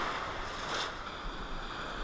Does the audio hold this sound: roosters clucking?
no